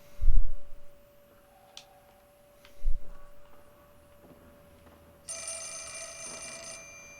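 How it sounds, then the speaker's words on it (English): A telephone rings in the horror game Fatal Frame: Mask of the Lunar Eclipse, one bright trilling ring burst near the end after a quiet stretch with a few low thumps, fairly clear and alone. "Phone is ringing."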